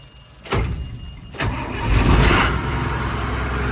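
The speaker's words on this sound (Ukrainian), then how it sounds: "Холодний запуск. Це холодний запуск." A John Deere 1158 combine engine cold-starting: the starter cranks briefly, then the diesel catches and rises into a loud, rough, steady idle close by, with no talk.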